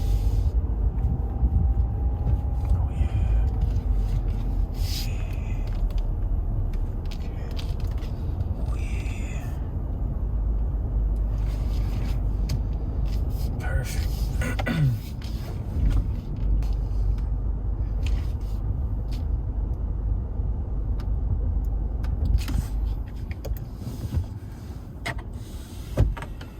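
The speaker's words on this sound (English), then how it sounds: "See, I'm trying to park like this here." Car being maneuvered into a parking spot, a low steady engine rumble heard from inside the cabin with occasional clicks and thumps, continuous throughout with faint movement noises.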